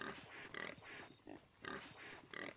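A pig in the video game Shadow of the Tomb Raider grunts and oinks in short repeated bursts, several snorting calls in a steady rhythm at moderate volume with no speech.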